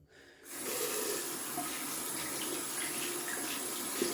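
A shaving brush is rinsed under a running bathroom tap after wet shaving, a steady close hiss of flowing water that starts abruptly after half a second of quiet and runs evenly to the end, with no talking.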